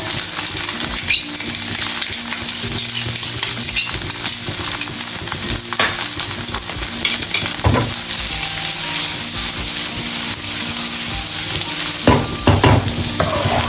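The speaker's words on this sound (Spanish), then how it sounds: "doramos un poquito el ajo, cebolla" Garlic browns in hot oil in a pan for an osso buco in red wine, giving a steady, loud, close sizzle throughout with occasional scrapes and taps of a utensil stirring.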